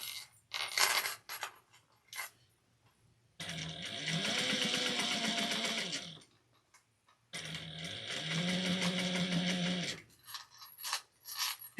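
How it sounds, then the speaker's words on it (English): A sewing machine top stitches fabric on a Sallie Tomato Luci bag project in two sustained, even runs of whirring motor and needle chatter, close-up and clear, with small clicks and handling noises between runs. "when you top stitch, have the needle down"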